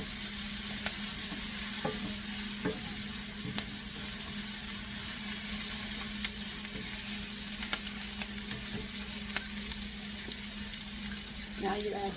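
Bell peppers and zucchini sizzle steadily in a large hot frying pan, a constant close crackle with occasional clinks and scrapes of stirring throughout.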